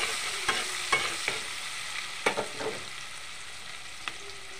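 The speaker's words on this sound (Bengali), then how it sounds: "পেঁয়াজ কুচি দিয়ে দিলাম, লাল লাল করে ভেজে নেব" Chopped onions fry in hot oil in a pan for mutton curry, giving a steady close sizzle broken by several sharp scrapes and knocks of a spatula stirring them.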